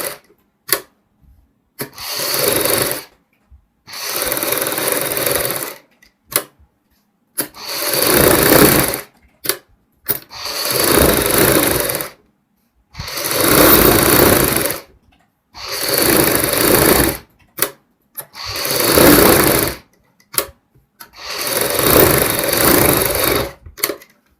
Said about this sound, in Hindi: अब यहाँ पे हम सिलाई लगाएंगे।